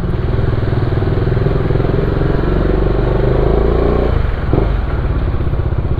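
A motorcycle engine with its check-engine warning on runs close by with a loud, throbbing idle and rapid low pulses, briefly stuttering before settling back into its steady rumble.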